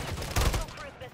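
Quick burst of gunfire in Call of Duty MW3, a couple of sharp close shots landing within about a second, loud and brief.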